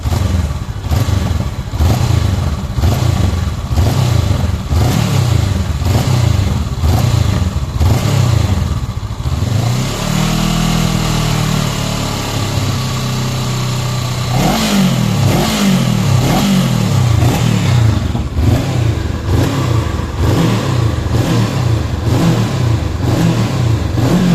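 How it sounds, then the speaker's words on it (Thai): A 2022 Honda CB500X motorcycle engine revs repeatedly in sharp bursts, settles briefly to an idle, then blips hard again in quick succession, loud and close. "ฟังเสียง เร่งรอบกันสักหน่อยนะครับ"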